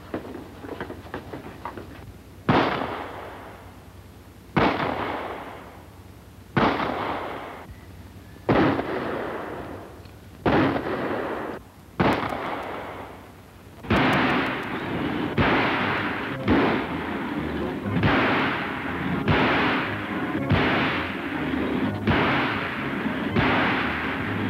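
Gunshots ring out one at a time on an indoor police firing range, about a dozen sharp reports that come slowly at first, then quicken into a steady run with short echoing tails and no talking.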